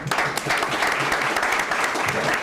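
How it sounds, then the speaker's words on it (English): A room full of people at a startup week sales event applauds warmly, with dense, steady clapping that holds at an even level for a couple of seconds. "Let's put our hands together."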